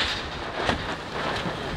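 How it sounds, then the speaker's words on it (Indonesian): Steady rain falls outdoors in Palembang, a dense, even hiss that carries on without a break and with no voices over it. "Nah, hujan ya."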